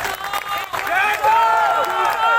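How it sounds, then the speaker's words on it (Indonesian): Applause and cheering from an audience at an anniversary gathering, greeting the general chairman before a tumpeng-cutting. Steady crowd noise builds and holds, loud and near, with voices mixed into the din. "Tepuk tangan untuk Ketua Umum kita."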